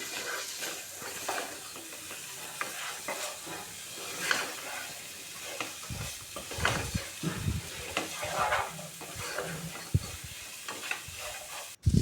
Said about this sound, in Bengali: এবার মশলার সাথে মাংসটাকে কষিয়ে নিচ্ছি